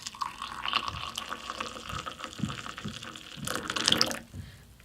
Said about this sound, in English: it just says to pour the water